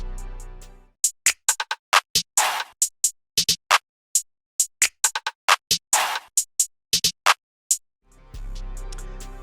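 A chanted vocal sample in the glo style is layered into a trap beat made in FL Studio. Two broad vocal bursts cut through busy percussive hits, and deep bass swells sit at the start and end.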